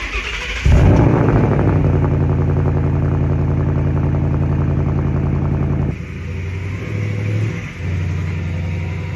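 A 2023 Ford Mustang GT with a 5-liter V8 fires up with a sharp bark, then settles into a loud, deep, burbling idle, dipping briefly twice with small blips near the end.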